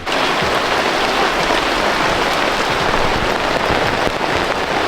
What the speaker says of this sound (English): we've had a bit of a deluge of water, a bit of a deluge of rain I should say